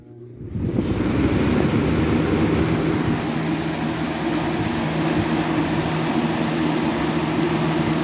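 A 2003 Lakewood model 202 fan switches on at its high setting, rising within the first second into a loud, steady broadband whoosh of moving air with a low motor hum that holds throughout.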